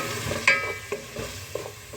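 Diced ripe tomatoes are stirred into a vegetable masala of potato, cauliflower, peas and carrot frying in a pan, giving a few spoon scrapes and soft clacks over a low steady sizzle, with no voices.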